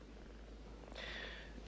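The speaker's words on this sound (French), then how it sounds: "J'adore les chats." A cat purring, a soft, low, steady rumble that stays faint throughout, with a brief brighter hiss near the end.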